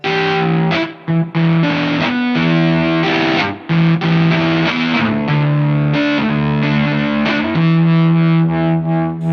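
An electric guitar on the neck pickup, volume rolled down slightly, plays distorted, sustained fingerpicked notes and chords one after another, loud and continuous with brief gaps and no talking.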